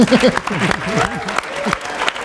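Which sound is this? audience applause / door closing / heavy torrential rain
audience applause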